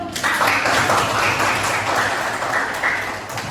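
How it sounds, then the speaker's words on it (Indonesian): Classroom students clapping together in a steady wash of applause that starts abruptly, holds for a few seconds, and fades slightly at the end, with no talk over it. "Tepuk tangan dulu"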